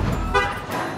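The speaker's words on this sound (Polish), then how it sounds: "Co mi tu bombisz, trąbisz na mnie, chłopie?" A short, loud toot of a car horn on a street in Cyprus, cutting briefly through steady traffic noise close by.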